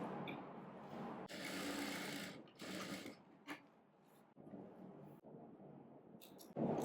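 A sewing machine stitches darts on a blouse in bursts, its mechanical whir starting and stopping several times with brief pauses between runs, close by and with no talk.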